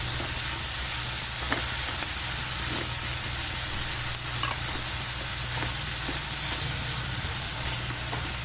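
Onions, coriander and tomatoes for a chutney are stirred together in a hot pan, giving a constant loud sizzling hiss broken by faint scraping taps of the spoon.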